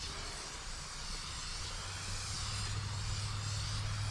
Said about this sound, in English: Yeah, look at them bubbles coming up.